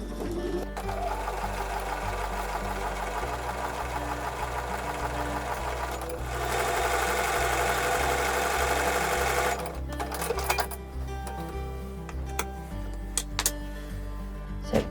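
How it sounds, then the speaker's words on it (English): A sewing machine runs a 1/4 inch seam on a Broken Dishes quilt block, a steady, close mechanical whir with a rhythmic low thump, continuous and loud for the whole stretch. "we're going to sew right sides together with a 1/4 inch seam."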